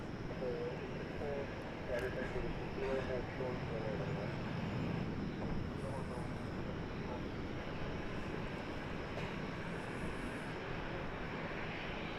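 A Boeing 737-800 airliner bound for Denver passes at DFW Airport, its engines a steady, broad, continuous roar held throughout, with a voice talking faintly beneath it.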